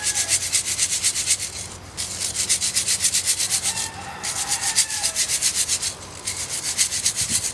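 Bonsai soil mix of gravel being shaken through a sieve, a close, steady, rhythmic rasping shuffle that continues in three long bursts separated by brief pauses, with no talking.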